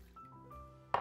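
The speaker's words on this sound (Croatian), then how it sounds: "malo ćemo podliti sa vodom" Water is poured over a stuffed veal breast in a baking dish, giving a brief, quiet trickle and drip that ends in a sharper splash, close up.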